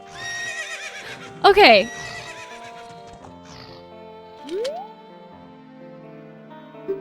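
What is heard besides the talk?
horse neighing in the video game Zelda: Ocarina of Time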